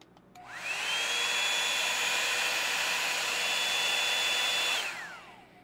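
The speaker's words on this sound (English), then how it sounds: "So we'll turn the hairdryer here to high," A hair dryer set to high switches on and blows with a steady, even whine for several seconds, then cuts off and spins down.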